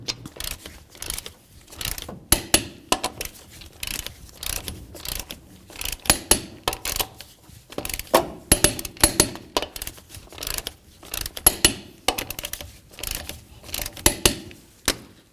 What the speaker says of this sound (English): torque the lug nuts to 100 foot-pounds